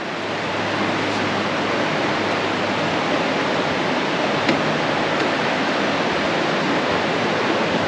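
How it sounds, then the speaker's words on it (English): Ashuelot River water rushing steadily beneath a covered bridge in southern New Hampshire, a broad continuous wash of flowing water with no voices. "And this here is the Ashluit River."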